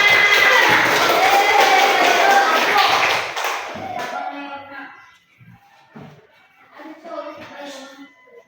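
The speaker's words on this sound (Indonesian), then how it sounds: "tepuk tangan buat Abang Lanan." Schoolchildren clapping together in an Islamic primary classroom, a loud dense burst for about three seconds that quickly fades, followed by a teacher speaking.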